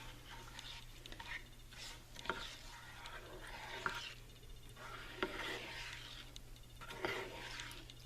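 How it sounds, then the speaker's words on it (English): Sausage paella is stirred in a pan with a soft, steady scraping and a faint sizzle. The strokes repeat at an unhurried rhythm, close up and fairly quiet. "So we're going to stir it all up to make sure it's incorporated."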